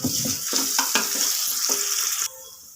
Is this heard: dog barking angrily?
no